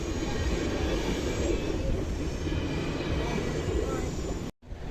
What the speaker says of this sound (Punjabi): ਟ੍ਰੇਨ ਵੀ ਜਾ ਰਹੀ ਹੈ ਜੀ